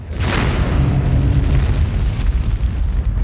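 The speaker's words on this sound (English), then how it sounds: "A stupendous explosion." A deep, loud roaring boom for a supernova explosion, bursting in abruptly and then rumbling on as a sustained low blast across the whole stretch with no voices over it.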